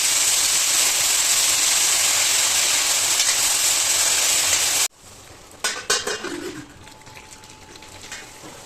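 Spring onions frying in hot oil with garam masala: a loud, steady broadband sizzle that cuts off abruptly, followed by quieter scattered clatter and stirring sounds.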